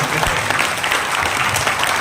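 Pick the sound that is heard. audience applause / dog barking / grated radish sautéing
audience applause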